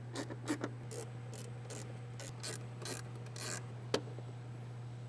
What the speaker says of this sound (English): Grab a ratcheting wrench and make easy work of these bolts here.